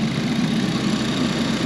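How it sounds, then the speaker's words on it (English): Ford Fiesta ST200 engine idling steadily with a low, even hum, fairly close and continuous, with no talk over it. "Engine sounds sweet."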